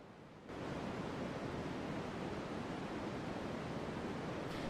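A recording of wave-like noise plays as a steady, soft, broadband rushing hiss that switches on abruptly after half a second and holds an even level to the end.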